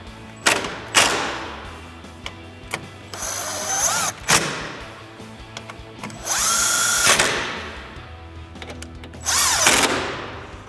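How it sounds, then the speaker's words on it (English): A 3/8-inch impact gun with a 10 mm socket tightens the screws on a 2009-2018 RAM 1500 headlight, firing in several short, loud bursts of whirring rattle separated by pauses and light clanks. "now I'm going to take my 10 millimeter, my 3/8 gun, tighten them up just like that"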